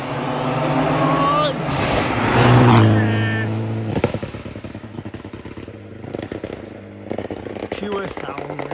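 A Mitsubishi rally car on a live rally stage roars past at close range, its engine swelling to a loud peak and then fading into crackling pops and bangs, with spectators' voices around it.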